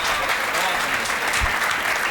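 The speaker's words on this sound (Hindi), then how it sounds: "यदि मजा आए रहो हो तो एक बार ताली बजा के बता।" A live audience at a Hindi comedy poetry show applauds, a steady burst of clapping from many hands that fills the hall evenly and carries loud throughout.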